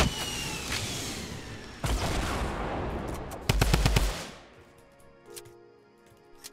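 Gunfire in the video game Fortnite: bursts of rapid shots and sharp cracks in quick succession, loud and close, thinning out toward the end.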